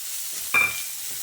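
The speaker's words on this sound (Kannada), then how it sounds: "ಫ್ರೈ ಮಾಡಿ ಇಟ್ಕೊಂಡಿದ್ವಿ ಪೊಟ್ಯಾಟೊ, ಇದನ್ನು ಹಾಕಬೇಕು. ಹಾಕಿ ಚೆನ್ನಾಗಿ ಮಿಕ್ಸ್ ಕೊಡಬೇಕು." Fried potatoes being stirred into rice in a pan, giving a brief scraping stir with a soft sizzle, close and short, with no talking.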